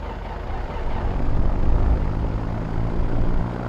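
The right engine of a simulated Twin Comanche PA30 twin-engine piston plane in X-Plane 11 drones with a low, steady propeller hum that swells slightly in the middle and holds throughout, with no talk over it.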